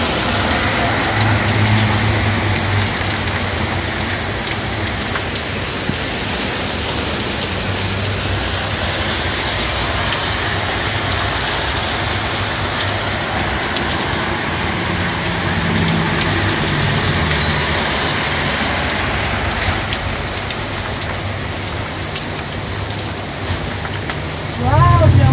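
Hail falling outdoors in Oakland, California: a steady, dense patter of small hailstones striking surfaces, continuous and fairly loud for the whole stretch, with a brief louder rise at the end.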